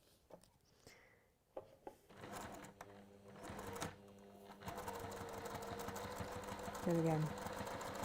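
A sewing machine top stitching fabric starts up after a few quiet clicks and handling noises, then runs in a steady mechanical whirr. Someone speaks briefly over it.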